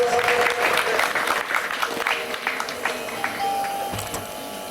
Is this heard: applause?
yes